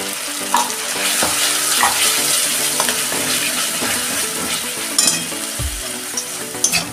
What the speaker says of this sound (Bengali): এবার মশলাটা ভালো করে কষে নেব, যাতে আদা রসুনের গন্ধটা চলে যায়।